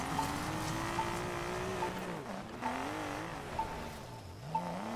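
A Chevrolet being driven in the racing game Need for Speed Payback: a steady engine drone runs throughout, rising and falling in pitch with a few brief tire-squeal accents, and there is no talking.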